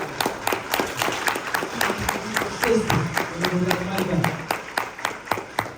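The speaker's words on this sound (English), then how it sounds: "Let's clap it up" A crowd claps in steady, dense rhythm throughout, with a low murmur of voices running underneath at a motivational event.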